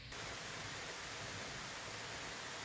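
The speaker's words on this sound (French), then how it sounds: "là il pleut" Heavy rain pouring down in a steady, dense wash of hiss that stays loud and unbroken throughout, with no voices over it.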